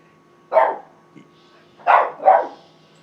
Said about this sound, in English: You got my dog barking in the back.